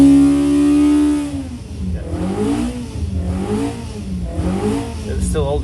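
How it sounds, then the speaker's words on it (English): Car engine running under load on a dynamometer, revving steadily, then easing and rising again with wavering pitch as the load is backed off; loud, close, with no talk. "So I'm backing the dyno off now, so that's 6, it's still holding 75."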